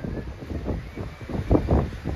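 Steady wind blows and buffets the microphone at a seaside hut, making a low, uneven rumble that swells and fades throughout.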